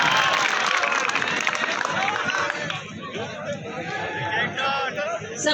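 Strong, dense applause from the audience at a mushaira fills the first half and then thins into crowd chatter and scattered clapping.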